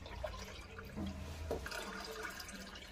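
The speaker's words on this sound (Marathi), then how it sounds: "पूर्ण असा कलश भरून मी पाणी टाकून घेतलं" Water pours and splashes steadily into a kalash pot, a faint continuous trickle with a few small knocks, no one speaking.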